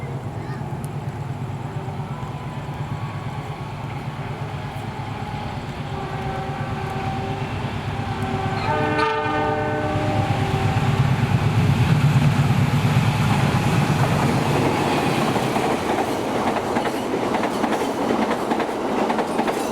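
The Argo Parahyangan 41B passenger train passes at speed without stopping, a rushing rumble that swells and peaks mid-pass with rhythmic clickety-clack of wheels and a brief horn-like tone, then fades slightly.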